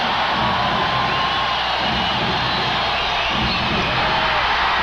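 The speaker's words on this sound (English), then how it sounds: "Listen to this crowd." A large basketball arena crowd at a 1991 Portland Trail Blazers versus Utah Jazz game roars steadily, a dense wall of cheering and shouting with no breaks, loud and enveloping.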